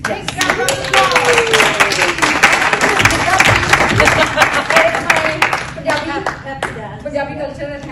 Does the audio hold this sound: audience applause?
yes